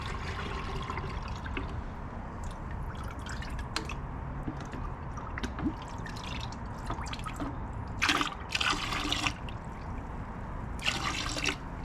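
A bottle is dunked into a bucket of Carbon Collective Evolve rinseless wash solution, giving close watery sloshing, drips and trickles, with a few brief louder splashy bursts near the end.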